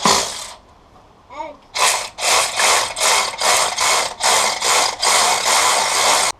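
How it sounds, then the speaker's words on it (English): A ratchet wrench on a Willys Jeep CJ2A L134 engine clicks rapidly in a long run of repeated bursts after a short pause, loud and close. "Let's ratchet."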